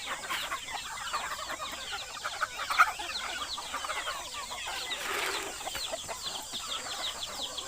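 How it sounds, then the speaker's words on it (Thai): A backyard flock of chickens on a Thai home farm, a rooster among young growing birds, keeps up busy overlapping clucks and chirps at moderate distance, steady throughout with no talking. "อันนี้ตัวนี้พ่อไก่ อันนี้ไก่รุ่นครับ"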